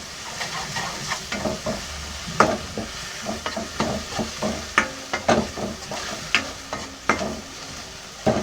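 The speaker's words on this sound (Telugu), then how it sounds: "బాగా కలుపుకోవాలి." Food sizzling in a frying pan while a spoon stirs it, a steady hiss broken by a regular run of scraping strokes, close and fairly quiet.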